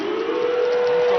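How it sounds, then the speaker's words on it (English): A loud half-time siren wails in one sustained, steady tone at a 1997 rugby league Test between New Zealand and Australia, holding without a break. "Half-time siren now sounding."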